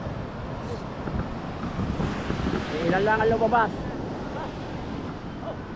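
Big ocean waves churning with wind buffeting the microphone, a broad rumbling surge that swells midway, while someone speaks over it near a boat on rough sea.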